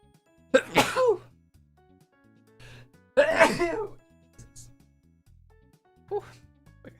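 Two sharp sneezes a few seconds apart in the video game AdventureQuest Worlds, close and loud, followed by a fainter third burst, with quiet room sound between.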